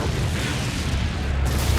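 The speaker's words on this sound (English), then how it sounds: "A rocket explodes on the flight deck." Rocket explodes on the flight deck of the aircraft carrier Enterprise at sea, a heavy, sustained low booming rumble with a rough roar, loud and distant-sounding, no voices.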